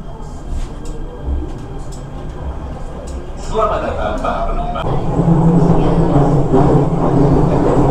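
A Jakarta MRT train pulls into the station, a rumble that builds from about halfway and grows into a loud, sustained rolling roar, with people talking nearby.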